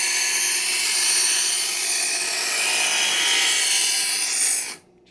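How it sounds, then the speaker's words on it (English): The biggest kitchen knife in a set is drawn through a sharpener in one long, loud, continuous rasping scrape that cuts off abruptly near the end. "the last one is actually the biggest knife in the set. And let's just go ahead and sharpen it."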